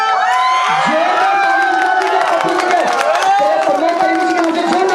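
A crowd at a Bhojpuri film launch ceremony cheers and whoops loudly and continuously, with clapping under the shouting and voices mixed through.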